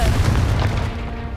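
Confringo blasting spell detonating in Hogwarts Legacy, a single loud, deep boom with a heavy low rumble that fades over about a second, close and alone.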